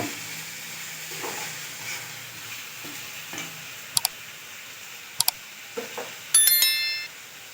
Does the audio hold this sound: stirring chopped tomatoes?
yes